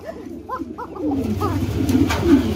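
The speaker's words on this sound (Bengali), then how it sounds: "একজোড়া কোকা কবুতর রয়েছে রেড কালারের মধ্যে, যারা ডাকাডাকি শুনতে অভ্যস্ত।" A pair of red Coca pigeons coo in a series of soft repeated calls, close by, with background bustle and noise building toward the end.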